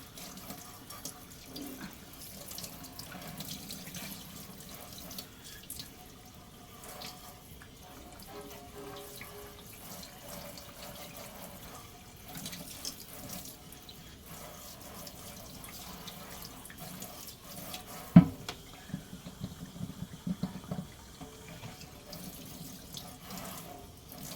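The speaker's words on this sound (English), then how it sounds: "you just rinse right down the sink" Water runs steadily from a kitchen sink faucet while a bowl is rinsed, with a continuous close hiss and splash, a few sharp clinks near the end, and no talk.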